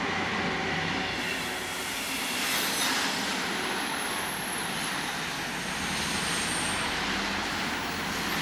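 A RoLa rolling-highway freight train comes down from the Brenner Pass toward Wörgl with a steady, fairly faint, distant broadband rumble and roar that holds for several seconds without any voices.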